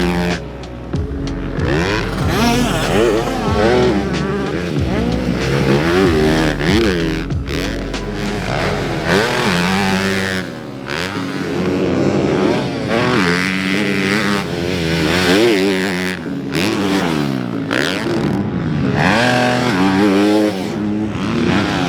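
A 2025 Honda CRF250 Works Edition dirt bike being ridden, its engine buzzing and revving up and down steadily throughout, loud and close, with no talking.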